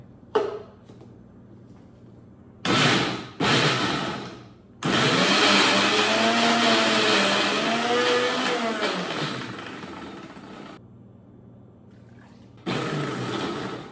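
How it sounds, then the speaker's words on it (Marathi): A kitchen mixer grinder blends masala for Malvani chicken, starting with two short loud pulses, then a long whirring run of several seconds that gradually eases off, and after a pause one more burst, with no talking. "तर आपण मिक्सरमध्ये लावूया हे"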